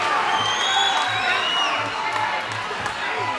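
Fight crowd at a Mackay event cheering and whooping in a steady roar, with commentary talk running over the noise.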